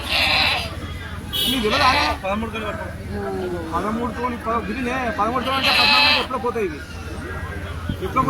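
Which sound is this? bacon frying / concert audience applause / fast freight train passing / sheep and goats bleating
sheep and goats bleating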